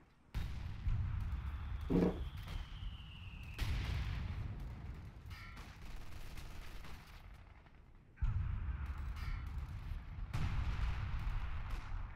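British artillery fire in a WWII strategy game set at the Battle for Caen near Abbaye d'Ardenne thuds in repeated deep booms and rumbling blasts, with a whistling shell streak early on and dense low explosions throughout.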